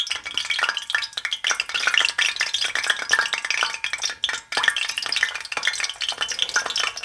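Green tomatoes fry in hot oil, a dense, continuous sizzling and crackling hiss broken by occasional stirring scrapes.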